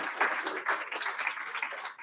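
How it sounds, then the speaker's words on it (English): Moderate applause from an audience at a business fireside chat event, an even patter of many hands clapping for about two seconds with small swells. "please give her a big, huge round of applause"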